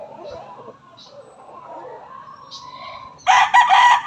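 A young stag rooster crows nearby, a loud burst at the end following quieter clucks and faint bird calls in a calm backyard poultry setting.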